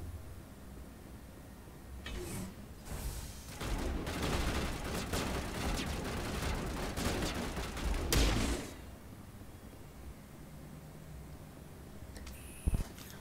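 Gunfire from the Mass Effect: Legendary Edition video game: a dense volley of overlapping shots erupts in a narrow hallway, sustained for several seconds before cutting off, with a quieter background and a sharp click near the end.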